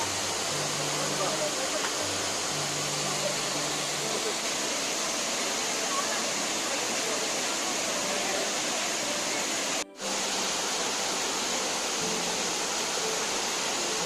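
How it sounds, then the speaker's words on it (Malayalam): Abbey Falls, a waterfall about 100 metres high near Madikeri in Coorg, roars as a steady, dense wash of falling water that fills the whole clip at constant loudness, with a brief dropout near the end. "മടിക്കേരിയിൽ നിന്ന് മൈസൂർ റൂട്ടിൽ 8 കിലോമീറ്റർ ദൂരെയായിട്ടാണ് അബി ഫാൾസ് വെള്ളച്ചാട്ടം."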